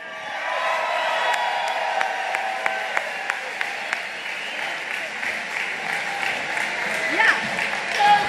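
A large crowd at a Trump campaign rally in Moon Township, Pennsylvania, applauds steadily to welcome Senator Kim Ward, a broad, sustained wash of clapping with scattered sharp claps and faint cheers throughout.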